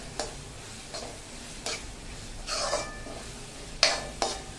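Spatula clacks against a pan while Bombay style pav bhaji is mashed, a series of sharp scraping ticks at irregular intervals over a soft low sizzle, with no talking.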